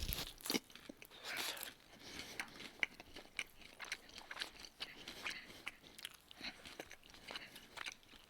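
Close, crisp crunching and biting into a large fried Raising Cane's chicken tender, followed by repeated chewing and smacking bursts over about eight seconds, quiet and intimate with no talking.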